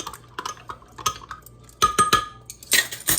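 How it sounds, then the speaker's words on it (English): A utensil stirs yeast into water in a bowl, with a series of close, sharp clinks and scrapes against the sides at an uneven rhythm. "Give it a good stir."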